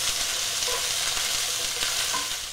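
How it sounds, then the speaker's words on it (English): Diced sweet onion sweats in a hot pan, giving a steady, dense sizzle that stays loud and even throughout, with faint stirring movement underneath. "We're just basically gonna sweat this for a few minutes."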